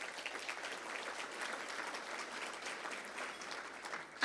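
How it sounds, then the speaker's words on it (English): An audience at a State of the City event in Santa Ana gives a soft, even round of applause, heard from a distance as a continuous patter without voices. "round of applause, please"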